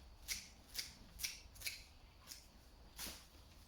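Agapanthus leaves being cut back by about half before repotting, giving a handful of crisp, close snips spaced at an uneven rhythm with quiet gaps between cuts.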